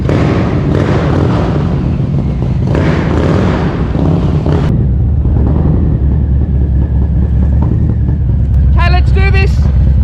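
A Harley-Davidson Low Rider S motorcycle engine rumbles loud and close while riding, a steady deep drone with a few throttle swells, while someone talks over it.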